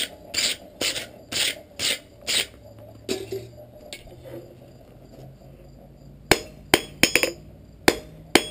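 Hot steel hammered on an anvil while forging a slot punch: a run of regular ringing blows, a quieter stretch with low forge rumble, then more sharp, uneven strikes close by.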